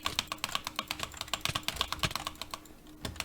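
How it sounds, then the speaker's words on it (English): A loud computer keyboard clatters with rapid, uneven keystrokes during Minecraft EggWars play on Cubecraft, a close, sharp typing burst with no speech. "I'm sorry about my loud keyboard"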